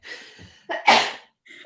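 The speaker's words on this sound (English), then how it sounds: "You're allowed to sneeze." A person gives one close, loud sneeze: a short breathy intake, a sharp explosive burst, then a trailing exhale and a faint sound afterward.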